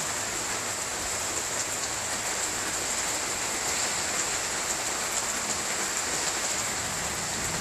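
Heavy rain pours down steadily, a dense, continuous hiss of drops with no break and no voices.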